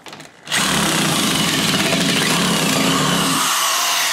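A power tool buzzes steadily as it backs short screws out of the top rail of a glass shower door, starting abruptly after a brief quiet moment and running loud and continuous until it eases off near the end.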